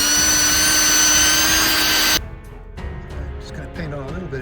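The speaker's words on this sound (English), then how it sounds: "I want to pre-drill a hole in the middle because it is going to affix to a post" Power drill pre-drilling a hole through the middle of a wooden bird table roof: a loud, steady high whine running for about two seconds, then stopping abruptly and leaving quieter handling noise.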